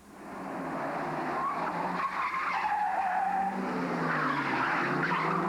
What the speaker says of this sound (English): Crowds of people line the curbs to watch a Friday night ritual called drifting.